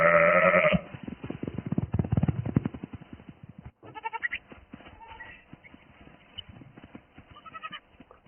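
Goats bleat repeatedly, starting with a loud, wavering cry, then several shorter bleats scattered across the recording at moderate distance.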